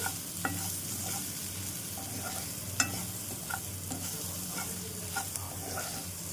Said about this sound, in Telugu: వెల్లుల్లిపాయ వేసుకుని ఒకసారి వేయించేసుకుందామండి